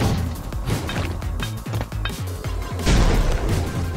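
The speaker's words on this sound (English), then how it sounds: "grenade launcher" Grenade launcher firing in the video game Choke Point: a run of heavy thumping booms and crashing impacts in quick succession, loud and close, with brief dips between blasts.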